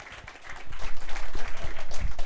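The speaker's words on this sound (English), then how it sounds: "So give a big round of applause for Bill Fehr and PolySwarm." Audience applause at a business meetup event after a guest speaker is introduced, starting soft and then swelling into sustained clapping from a room of people, fairly close and continuous.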